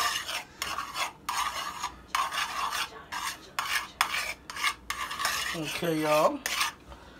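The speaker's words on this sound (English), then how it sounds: "Y'all can see right here how the butter and the garlic is combining together." Butter and garlic cooking in a pan under repeated rhythmic scraping and stirring strokes of a utensil against the metal, close and fairly loud, with a brief spoken word partway through.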